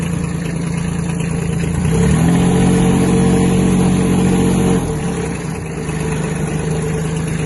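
A Kubota B-1502 mini tractor's engine runs steadily through a tight turn, rising to a stronger, louder drone for about three seconds before settling back to a constant mid-pitched hum, with no talking.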